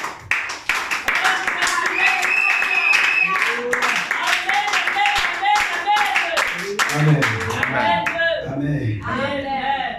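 Congregation clapping in church at a revival service, rhythmic claps and shouting voices, then the clapping thins as speech and voices take over toward the end.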